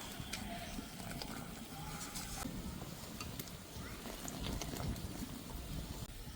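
Sugar syrup with cardamom pods boils steadily in a pan, a dense continuous bubbling at moderate level with a faint clatter now and then, and no voices over it.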